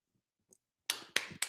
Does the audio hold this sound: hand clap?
yes